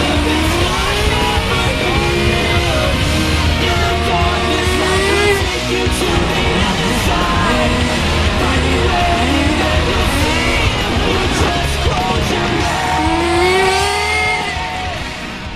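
A Duratrax Overdrive ST nitro RC car from 2001 runs loud and close, its small engine buzzing and revving in wavering pitch sweeps for the whole stretch without pause.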